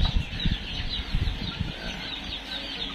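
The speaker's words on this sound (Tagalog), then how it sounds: "Marami ako naririnig dito guys na mga mga manok" Gamecocks on a fighting chicken breeder's farm cluck and stir nearby, with low scuffling and soft flapping in short bursts, fairly quiet overall with no talk.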